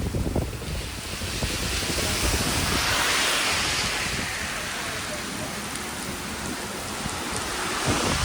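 Heavy monsoon rain pouring at Malshej Ghat beneath a sheltering cliff overhang, a dense continuous roar of falling water with rumbling low gusts, steady throughout and close.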